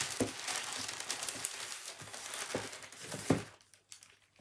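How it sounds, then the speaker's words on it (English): Parchment paper being cut into squares for piping royal icing rosebuds gives soft crinkling and rustling with a few sharper snips, close and fairly quiet, with no talking. "we're going to cut up some parchment squares."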